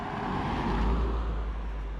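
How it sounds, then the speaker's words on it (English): A car approaches on a road where the Bruce Trail crosses near a sharp bend, a steady low engine and tyre rumble building and holding throughout, moderately loud with no talking. "it sounds like there's a car coming"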